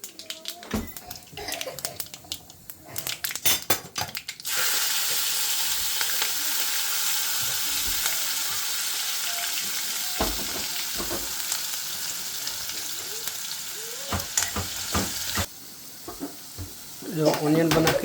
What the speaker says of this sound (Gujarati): તપેલું મૂકી દીધું છે, એમાં તેલ નાખીને રાઈ જીરું નાખીને પછી એની દાળ વઘાર નાખીએ